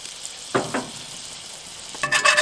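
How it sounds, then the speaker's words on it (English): Butter melting in a warm skillet for mac and cheese gives a soft sizzle with a few brief stirring scrapes and a brighter crackling burst near the end. It stays moderately quiet with no talking. "We're going to melt some butter."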